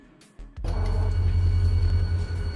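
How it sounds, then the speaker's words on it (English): A huge train in the railway simulator game RailRoader starts up after a brief quiet moment, settling into a loud, steady low rumble with a faint high whine running through it. "And that's a huge train."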